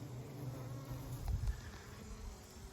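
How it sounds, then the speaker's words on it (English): A steady, low buzzing drone of many bees in an open hive with the top removed fills the scene, continuous and close, with a brief louder swell near the middle. "We got the top off, and there's lots of bees in there."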